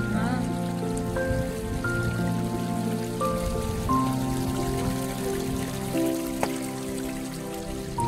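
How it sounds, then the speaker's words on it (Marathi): Water trickles and splashes steadily along a hillside path on the way up to Lenyadri, a soft continuous burble with drip-like accents and no talk. "हे बघ इथं बघ कसं पाणी चाललंय मस्त."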